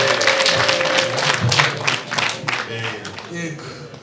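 Applause from a wedding crowd, a steady dense wash of clapping that carries on for several seconds, with voices talking over it.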